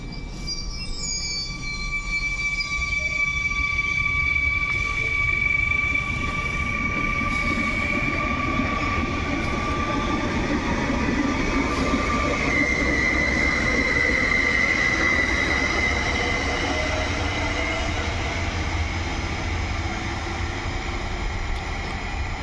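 An evening train rolls through Łowicz Główny station in Poland with a loud, sustained rumble of wagons, steady wheel clatter and high squealing tones from the wheels lasting the whole stretch, and no one talking.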